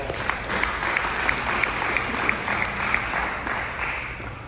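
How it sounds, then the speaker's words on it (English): Warm audience applause in an indoor hall at a high school basketball media day, steady clapping from a crowd with a few sharp individual claps standing out, sustained for several seconds. "Give us a Fred Underwood with a warm applause."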